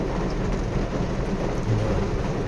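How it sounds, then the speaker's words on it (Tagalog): Heavy typhoon rain pours down in a steady, loud, dense wash, with low rumbling beneath that may be wind or distant thunder, continuous throughout with no voices. "Lakas ng ulan, no? Oo, grabing ulan to."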